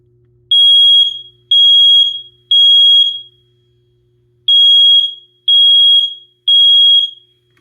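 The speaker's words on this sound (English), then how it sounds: "We're going to be doing our weekly smoke alarm test" A household smoke alarm on its weekly test, loud piercing electronic beeps in two bursts of three evenly spaced pulses separated by a short silence, close and alone.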